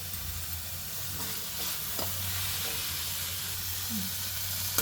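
Cumin seeds and garlic frying in hot oil in a pan for a Telugu ivy gourd and mint chutney, with a steady soft sizzle and occasional stirring scrapes throughout, no voices.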